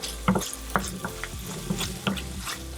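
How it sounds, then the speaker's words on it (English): Morel mushroom cream sauce cooks in a pan, with a soft bubbling hiss under repeated clacks and scrapes of a utensil stirring against the pan at an uneven rhythm. "just let all the flavors simmer together in there"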